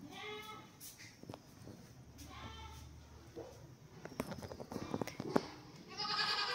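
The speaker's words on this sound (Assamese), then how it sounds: "জেঠিয়ালে নতুন ছাগলী আনিছে" Goats, including a newly brought female, bleat several times at a village home, their calls fairly close and rising over a soft background with faint voices.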